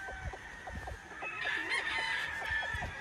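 A Lemon 84 gamefowl rooster on a farm crows once, clear and fairly close, a drawn-out cock-a-doodle-doo over soft background clucking and noise.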